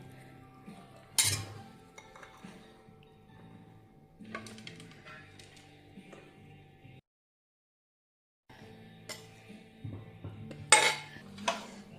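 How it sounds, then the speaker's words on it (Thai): A spicy Thai salad of corn, pineapple and instant noodles is pounded in a mortar, with clinking, knocking strikes in uneven bursts, a quiet pause in the middle, then sharper clattering hits. "นี่ค่ะทุกคนตำข้าวโพดสับปะรดมาม่า"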